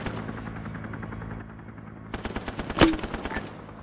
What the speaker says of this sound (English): Sounds like the gun's still up.